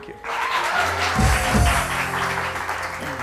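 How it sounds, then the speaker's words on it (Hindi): Applause from a live audience at a weekend show, a broad steady wash of clapping running throughout with music underneath and a louder swell of low thumps near the middle. "तालियां।"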